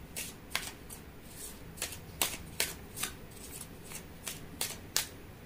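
A deck of tarot cards is shuffled in quick bursts, about a dozen crisp riffling snaps spread over several seconds, close and fairly quiet with no talking.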